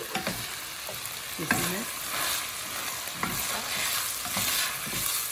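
Risotto rice being stirred in a hot pan, a steady scraping and sizzling texture with repeated spoon strokes, close up, while a voice briefly speaks.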